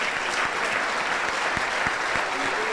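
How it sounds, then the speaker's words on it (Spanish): A church congregation claps steadily and loudly in gratitude for Pastor Manolo Sierra, a dense sustained wash of applause lasting throughout with a few sharper individual claps standing out. "Si quiere darle un aplauso a Dios por la vida del pastor Manolo Sierra,"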